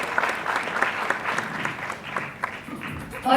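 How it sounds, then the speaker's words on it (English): A crowd applauds guests at a film-promotion stage event, dense clapping that swells and thins, with a few faint voices beneath and a louder voice breaking in at the end. "Can we have a huge round of applause, ladies and gentlemen?"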